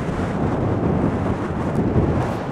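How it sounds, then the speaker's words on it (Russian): Strong wind blowing during a heavy storm on the central beach at Anapa, a loud, continuous roaring rush with buffeting gusts against the microphone and no talking. "Вот это мощь ветра."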